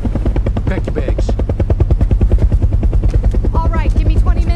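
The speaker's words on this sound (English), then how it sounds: "Just gonna pull up with a dang helicopter?" A helicopter in a movie arrives with loud, fast rhythmic rotor thumping that dominates throughout, while voices talk over it in the latter half.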